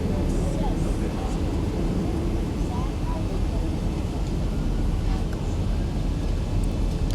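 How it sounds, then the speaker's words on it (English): Boeing 737-900 jet engines in the X-Plane 11 flight simulator, a dense, steady roar spooling up and filling the clip with a broad, loud wash of noise and no pauses. "Listen to that engine spool up right there."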